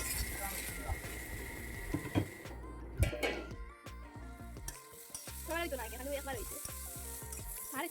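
Radish curry sautéing in a pan with ground dried chilli, a steady sizzle with stirring scrapes and a few clanks, lightly muffled as if under a lid at times, with faint background voices.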